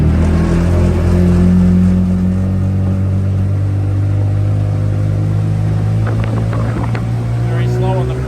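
Motorboat with a three-blade propeller droning steadily as it climbs onto the plane, a loud close engine hum with strong low tones holding level for several seconds, with faint voices under it.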